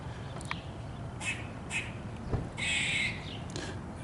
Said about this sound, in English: Pissed off squirrel.